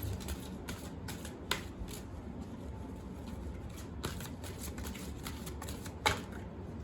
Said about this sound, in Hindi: let's pull one more card